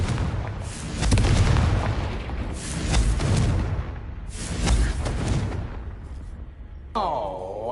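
Confringo fire spells blast repeatedly in Hogwarts Legacy, three or four heavy rumbling booms each trailing off in crackle, loud and close, ending in a short whooshing magical shimmer.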